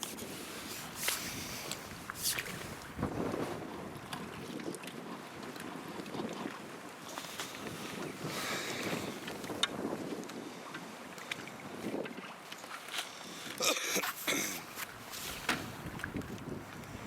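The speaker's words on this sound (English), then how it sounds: "A biting easterly wind, which is not good." A biting easterly wind gusts over open water around a fishing boat, with steady rushing buffets and microphone wind noise, plus occasional small knocks and splashes.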